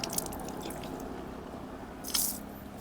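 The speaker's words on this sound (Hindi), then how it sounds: "तो हम मुंह की कुल्ली कर लेते हैं।" Water dribbles and splashes during wudu as the mouth is rinsed, soft wet drips close by and then a brief louder splash near the end, with no talking.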